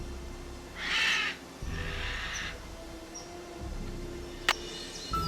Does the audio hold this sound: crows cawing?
yes